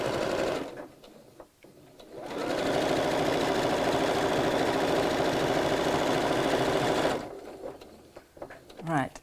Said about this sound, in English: Let me sew together another tube